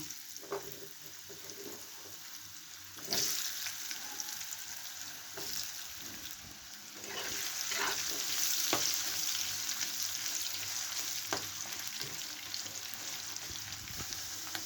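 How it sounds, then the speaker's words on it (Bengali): Potatoes frying in hot oil in a pan for a Bengali murighonto, giving a steady soft sizzle with occasional stirring clatter and a few sharper crackles, louder in the second half, no talking. "আমি এখন এই তেলের মধ্যেই আলুগুলো ভেজে নেব"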